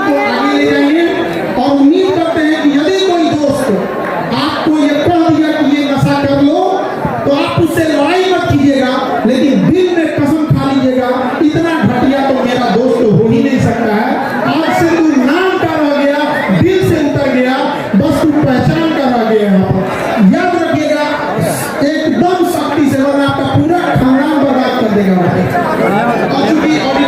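Dense crowd chatter fills an auditorium at Khan Sir's event in Motihari, a steady loud murmur of many voices with occasional laughs throughout.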